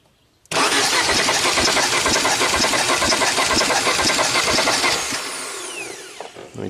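Abandoned Audi turbo car engine cranking over for about five seconds, a loud fast rhythmic starter churn that does not catch, then slowing and trailing off to a faint whine.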